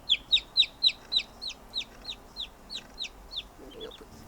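Cornish Cross chickens, a Plymouth Rock and large-breasted Cornish cross, give about a dozen sharp, high peeping clucks in an even rhythm, close and alone, fading slightly toward the end.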